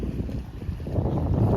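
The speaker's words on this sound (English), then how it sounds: "Very windy day today." Wind gusts roar steadily and fairly loud across a lakeside campsite in Algonquin Park, a broad rushing noise that builds slightly toward the end, with no voices.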